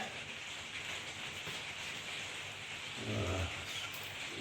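Constant hiss of rain falling on a surface, with a low rumble swelling briefly near the end, while a box curry is being cooked.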